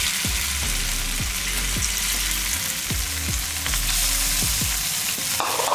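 Marinated paneer pieces frying over a slow flame in a nonstick pan, a close steady sizzle broken by repeated scraping knocks as pieces are placed and moved, with no talking.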